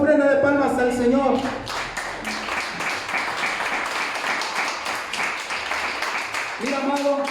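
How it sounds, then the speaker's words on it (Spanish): A church congregation breaks into a long, dense round of clapping offered to the Lord, loud and steady for several seconds, with a voice speaking before and after the applause. "dan una ofrenda de palmas al Señor"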